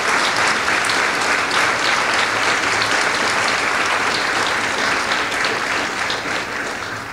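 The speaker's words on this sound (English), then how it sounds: "let's give Sheila a great round of applause" Loud, sustained audience applause at an honors gala, dense close clapping from a large crowd filling the room without a break.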